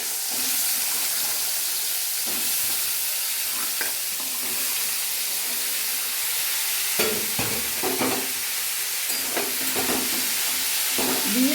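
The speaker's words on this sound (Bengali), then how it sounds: "একটু ভাজা ভাজা করছি" Potatoes frying in hot oil with fenugreek seeds in a kadai, a steady sizzle with intermittent scraping and clattering as a spatula stirs them.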